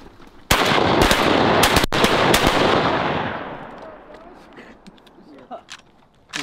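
Shotgun blasts on an Ohio swamp wood duck hunt: a rapid volley of about five loud, close shots in under two seconds, followed by a long echoing fade into quieter marsh ambience.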